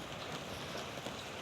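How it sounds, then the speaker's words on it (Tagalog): Steady rain hisses in a dense, even wash of noise, fairly quiet and continuous throughout. "ulan"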